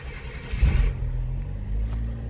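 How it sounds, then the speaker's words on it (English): A John Deere mini truck engine cranks and catches with a brief low rumbling burst, then settles into a steady close idle hum. "We're gonna start up the first ever John Deere mini truck in the history of the world."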